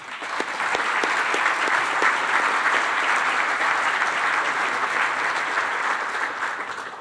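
A room full of event attendees claps loudly to welcome a guest speaker to the stage, a thick continuous burst of applause that stays strong throughout and eases slightly at the close.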